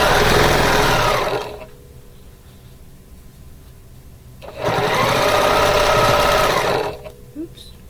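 A sewing machine stitches fabric in two fast, buzzing runs of a second or two each, with a quiet pause between them. Stitching is loud and close, with faint room noise in the gap.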